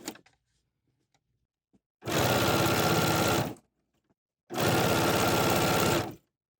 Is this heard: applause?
no